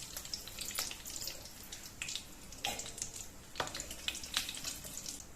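Spices splutter in hot oil for chicken pasanda, a close crackling sizzle broken by bursts of sharp popping and spitting that come and go over a steady frying hiss.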